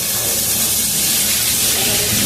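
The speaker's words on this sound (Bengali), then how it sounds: "এবার আমি এটাকে ভালো করে একটু ভাজবো, লাল লাল করে।" Potato, pointed gourd and vegetable stalks fry in hot oil, a loud, dense, continuous sizzle and hiss that stays steady throughout.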